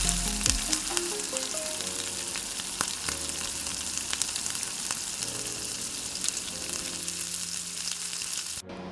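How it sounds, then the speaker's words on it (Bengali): Whole spices tempered in hot oil for a chickpea dal with paneer, sizzling loudly and steadily for nearly nine seconds, with a dense crackling hiss and no talk. "ফোড়ন দিয়ে দিচ্ছি, আপনারা চাইলে অল্প একটু তেল অ্যাড করতে পারেন"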